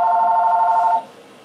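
A phone rings with a real incoming call while Euro Truck Simulator 2 is being played, a steady electronic tone lasting about a second and then cut off, loud and alone.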